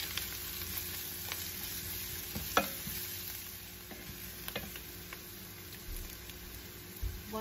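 A spice mix of chilli, coriander and turmeric powder stirred in a pan, a soft steady sizzle with a few light scrapes and taps of the spoon, fairly quiet and with no talking.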